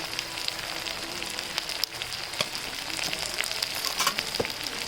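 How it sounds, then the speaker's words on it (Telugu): Eggplant curry with turmeric and salt cooking in a pan, with a close, continuous sizzle and a few soft clicks and stirring scrapes over the top. No voice is heard. "ఉప్పు అయితే వేసి ఒక 10 నిమిషాలు అయితే బాగా మగ్గనిస్తాం వంకాయనైతే"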